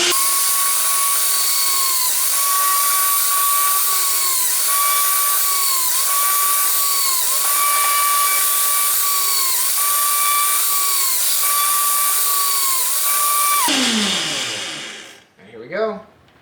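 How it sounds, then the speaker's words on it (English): An old, very loud drill press drilling holes in a water bottle, a sustained high whine that dips in pitch at regular intervals as the bit bites, then winds down and stops with a few clunks near the end. "I had forgotten I had a drill press"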